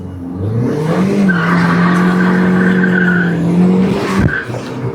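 A fast car accelerates hard with a loud, sustained tire squeal rising and holding steady, then breaks off into a sudden thump, close and loud with no talk.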